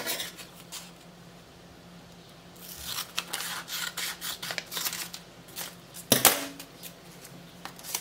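A bar of homemade soap being trimmed down with a cutter, giving soft scraping and rasping strokes at close range, with a sharper cut near the end.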